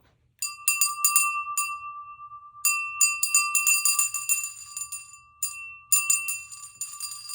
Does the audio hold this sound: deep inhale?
no